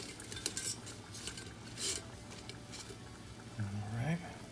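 Sweet potato fries crisping in a pan are tossed with a utensil, giving clattering scrapes and light rattles of pan and cutlery, with a voice speaking partway through.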